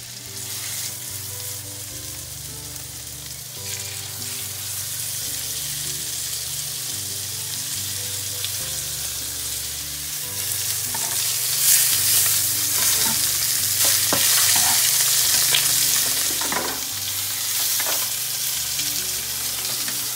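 Chicken breasts browning in olive oil in a frying pan, a steady close sizzle and crackle that grows a little louder partway through, with occasional stirring scrapes and a low hum beneath, no talk.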